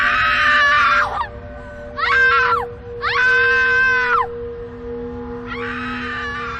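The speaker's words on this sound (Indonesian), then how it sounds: "adik perempuan Kinana menjerit histeris" A woman screams hysterically over her brother's corpse, letting out four long, loud, shrill wails separated by short pauses over a steady low hum.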